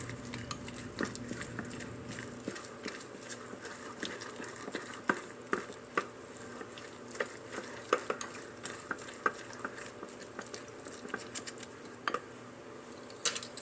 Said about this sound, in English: as we mash our bananas, that's going to help to smooth out our base